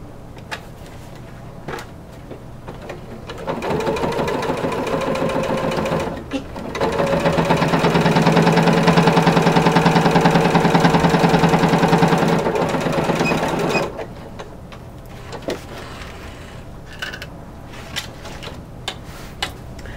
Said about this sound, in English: And now I can just straight stitch.